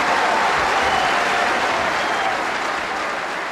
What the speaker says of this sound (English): As the capacity crowd go completely mad.